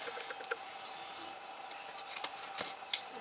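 Scissors snip away excess paper while a magazine journal is being assembled, making a few soft, close cuts and light rustles scattered over a quiet background with no speech.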